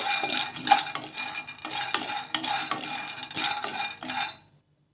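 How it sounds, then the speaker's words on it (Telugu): Sago and peanuts are dry-roasted in a kadai over a medium flame, with repeated bursts of scraping and rattling from a spoon stirring the pan. The bursts come in an irregular rhythm, close by, then stop abruptly near the end. "వీటిని కూడా మీడియం ఫ్లేమ్లో పెట్టేసుకొని వేయించేసుకుందాము కొంచెం కలర్ చేంజ్ అయ్యే వరకు"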